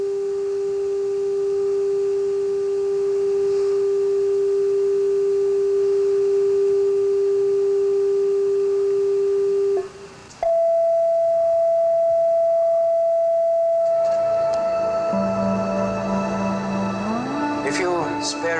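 Pure sine tones used for cymatics demonstrations. A steady single pitch holds, cuts out briefly, then returns as a higher steady tone, and a rising glide enters near the end over faint layered overtones.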